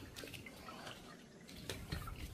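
A cat water fountain trickles and drips softly in a room, light continuous splashing with scattered drip sounds, faint and close, no speech.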